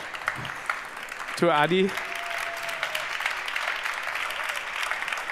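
Sustained applause from an audience fills a fashion award ceremony for green products. A voice speaks briefly over it, a short rising tonal sweep cuts through early, and the clapping continues evenly to the end.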